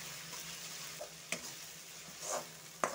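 Onion and tomato masala with salt frying quietly in a pan for arbi curry, a faint low sizzle punctuated by a few sharp spatula taps and scrapes, no voices.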